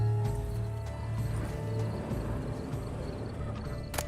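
Horse hooves clip-clop on the ground in The Witcher 3: Blood and Wine, a steady rhythmic plodding at close range over low ambient game sound, with a brief whinny-like tone.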